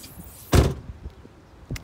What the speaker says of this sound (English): I like the way the rear door opens.